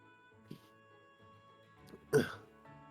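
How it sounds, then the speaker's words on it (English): A single short, harsh cough bursts out near the end, following a couple of faint throat noises in an otherwise quiet room. "Excuse me, I'm like coughing."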